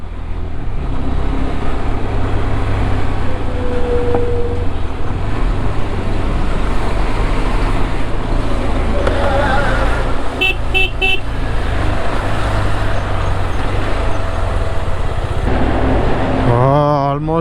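Congested road traffic with a steady roar of engines, a few short car horn toots sounding from mid-distance, constant throughout.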